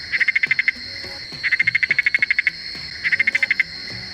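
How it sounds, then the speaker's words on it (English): Bursts of rapid, evenly pulsed Gunther's frog calls in Singapore, three trains of quick ticking notes close by, with a steady insect-like hum underneath. "The Gunther's frog is a non-native invasive frog species in Singapore."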